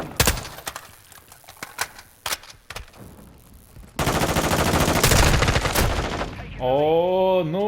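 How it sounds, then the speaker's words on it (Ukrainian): Rapid bursts of Call of Duty: Modern Warfare II online multiplayer gunfire, sharp cracks at first and then a sustained loud volley, ending in a rising electronic whine. "це я по голубам постріляв"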